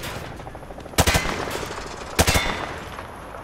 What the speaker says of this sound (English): Grab that weapon off the table and fire at the targets behind you.